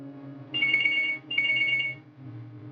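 A telephone rings in two short electronic bursts with a brief gap between them, clear and moderately loud over a low room hum.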